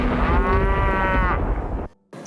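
A cow in an animated story gives a single long, loud, close moo that swells and falls over more than a second, then cuts off abruptly before a short silence.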